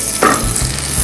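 Butter hitting a regular flat pan heated for a grilled sandwich, a brief loud hiss bursting up then settling into a steady close sizzle, with no voices.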